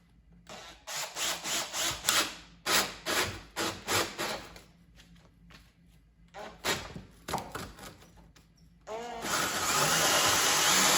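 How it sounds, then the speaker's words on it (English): Hole saw cutting into clamped wood scraps, a series of short grinding bursts close by, then a louder sustained whirring cut at the end. "Using these hole saws in wood"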